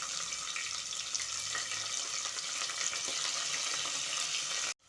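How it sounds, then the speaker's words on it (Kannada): Sliced onion and a large tomato fry in oil in a pan for palak pudina rice, a steady bright sizzle with light stirring, close and continuous before a brief cutoff near the end. "ಟೊಮೆಟೊ ಈರುಳ್ಳಿ 2 ಎಣ್ಣೆಯಲ್ಲಿ ಫ್ರೈ ಆಗಬೇಕು, ಚೆನ್ನಾಗಿ ಫ್ರೈ ಆಗಬೇಕು"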